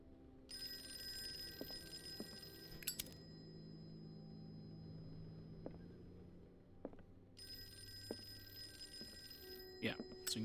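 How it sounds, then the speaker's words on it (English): Old telephone bell ringing in the horror video game Call of Cthulhu, in a private investigator's office, two long bright rings separated by a pause, with people talking quietly underneath. "so you can go ahead and answer the phone"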